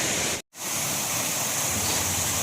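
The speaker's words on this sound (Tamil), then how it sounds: "நீர்வீழ்ச்சி பாருங்கள் எவ்வளோ அழகாக வருதுன்னு." Steady, broad rushing roar of a waterfall at Sendevippalaiyam dam near Tiruppur, continuous and loud, with a brief full dropout partway through before the same torrent resumes.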